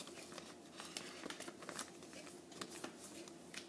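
Paper being folded into an origami lidded box: soft, close crinkles and crisp rustles in irregular bursts, faint and delicate.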